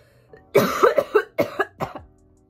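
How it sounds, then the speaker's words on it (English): A burst of several harsh, rapid coughs in close succession, loud and close by, with no talking. "the coughs are just getting worse"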